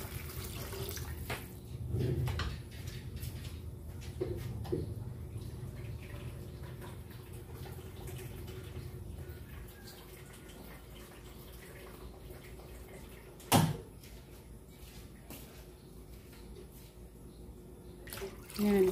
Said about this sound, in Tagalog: mag-add tayo ng sapat tubig para sa ating paglaga dito ng sabaw